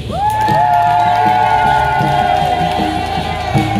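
A lively crowd at a Catholic parish gathering cheers, whoops and claps, loud and close throughout, with a sustained tonal call or ululation rising over the noise and shouting voices mixed in.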